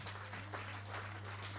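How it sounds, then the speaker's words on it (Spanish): Congregation clapping in a church service, a soft, distant patter of hands over a steady low hum, faint and continuous. "dele palmas"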